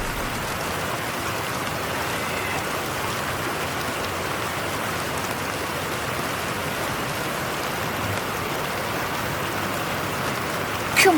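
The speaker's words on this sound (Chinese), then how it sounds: "下这么大雨" Heavy rain pours down steadily as a dense, even hiss that stays constant throughout, with a short louder burst right at the end.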